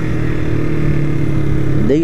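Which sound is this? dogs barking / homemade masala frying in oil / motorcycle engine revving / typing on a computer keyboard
motorcycle engine revving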